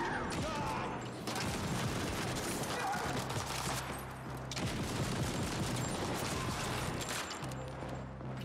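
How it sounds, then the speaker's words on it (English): Sustained bursts of rapid gunfire from a gun in The Ascent video game, loud and dense with mechanical clatter, broken by a couple of brief pauses. "It's kind of crazy how much more damage this gun does."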